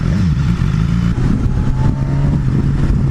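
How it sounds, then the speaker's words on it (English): A BMW S1000XR motorcycle engine running loud and close, its steady revving note wavering with faint crackles that could be small backfire pops. "I like that little backfire pop thing it's got going on."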